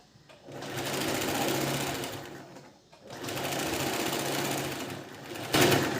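Electric sewing machine stitching a princess-cut blouse with fusing: two long runs of fast, steady mechanical whirring separated by a brief pause, then a short clack at the end.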